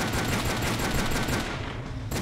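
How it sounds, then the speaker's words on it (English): Player's gun firing nonstop in the video game Toxic Bunny HD: loud, dense, rapid gunfire rattling continuously like a machine gun, with no voices over it. "I stand there and shoot, that's basically all I do."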